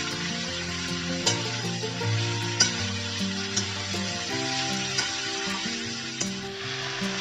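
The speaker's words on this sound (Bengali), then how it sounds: "আদা বাটাটা দিয়ে সমস্তটাকে ভালো করে কষিয়ে নেব।" Spices with ginger paste fry in a pan for an aloo dumur dalna, giving a soft sizzle broken by occasional spoon scrapes and taps, with a steady sustained tone running underneath and no talk.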